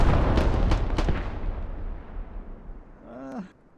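An artillery strike in a multiplayer shooter: several heavy, booming explosions land in quick succession, then a long rumbling decay fades out while a brief rising whine sounds near the end.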